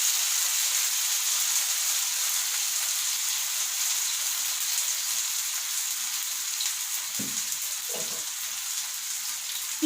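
Malai chicken kebab frying in a covered pan on a stove at low heat, a steady close sizzle running the whole time with a couple of brief clinks near the end.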